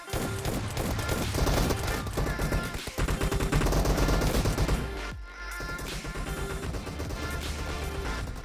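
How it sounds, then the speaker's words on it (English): Rapid gunfire in PUBG Mobile during a Team Deathmatch round, including shotgun blasts: dense, continuous bursts of shots layered over game music and effects, loud throughout with a brief dip midway. "instead of reloading, you're going to use the shotgun to finish the job"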